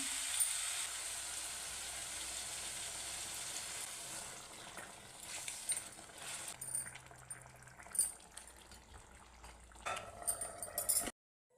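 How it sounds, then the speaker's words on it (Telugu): Water added to mutton curry frying in a pan: a loud hissing sizzle that gradually calms into softer bubbling, with occasional stirring clinks and scrapes near the end. "ఇప్పుడు వాటర్ వేసుకుందాం."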